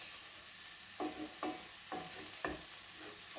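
Onions frying in a pan for chicken tagine, with ginger and paprika, give a steady sizzle under repeated stirring scrapes, about five spaced strokes, close and moderately loud.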